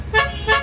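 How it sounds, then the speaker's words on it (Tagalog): Two short car horn toots from a hatchback, a quick double beep close by, with a brief gap between them. "Ganda ng busina, no?"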